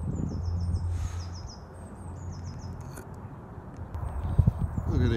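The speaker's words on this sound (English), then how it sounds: "a couple of horses here" Hooves clop softly on the ground nearby while birds chirp in the background, with a low outdoor rumble throughout.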